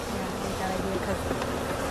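Honeybees buzz steadily at an open hive in a club yard, a continuous close drone with a person talking over it.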